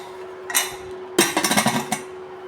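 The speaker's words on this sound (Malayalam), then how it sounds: "നമുക്ക് കുക്കർ അടയ്ക്കാം." Lid of a pressure cooker set on a stove being closed: one short metallic clank, then a quick run of clattering metal knocks and scrapes, close and fairly loud, with no talking.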